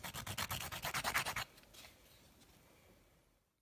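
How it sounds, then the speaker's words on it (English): A 100 grit file buffs the shine off dip-powder nails in quick, even back-and-forth strokes, about a dozen close rasps, followed by fainter scratchy rubbing that fades to quiet. "I am using a 100 grit file to do this."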